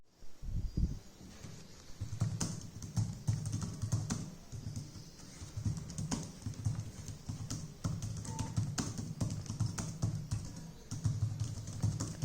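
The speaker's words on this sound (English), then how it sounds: "Typing on this keyboard is an absolute joy." Someone types quickly on the keyboard of an old Windows XP laptop with spaced-out keycaps, producing a steady, close stream of soft clicks and taps with no talking.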